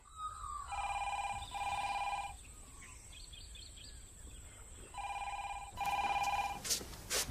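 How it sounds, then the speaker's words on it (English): Classic telephone bell ringing in bursts, two double rings, a pause, then two more, fairly loud in a quiet room with faint birdsong outside. "I was going to answer the phone."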